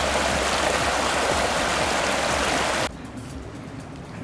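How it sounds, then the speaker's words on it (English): Steady broadband rush of stream water flowing over sandstone at a washed-out river crossing on a forest trail, loud and continuous, then abruptly dropping to a softer, more distant flow near the end. "And there is yet another river crossing."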